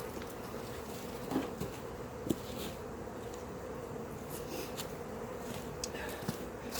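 Honeybees buzzing around a hive whose bees are very aggressive, a steady dense hum of many insects with a few closer passes flying by, and faint voices underneath.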